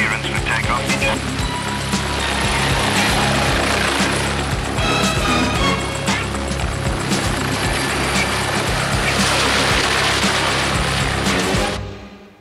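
A helicopter lifts off nearby with a loud, continuous rotor roar and a rhythmic mechanical chop, and the sound cuts off abruptly at the end.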